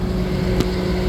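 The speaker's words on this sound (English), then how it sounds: "That's the auger," Rear auger on a 2010 Freightliner M2 Bergkamp FP5 asphalt patch truck churns with a loud, steady low mechanical drone and a faint tonal whine, one brief click partway through, no talking.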